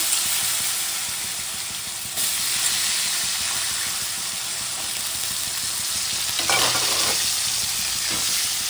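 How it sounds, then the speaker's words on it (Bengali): Potatoes frying in a pan give a steady loud sizzle and hiss throughout, with brief stirring shifts partway through, close up and without talk. "এই যে আলুগুলো একটু ভেজে নেবো।"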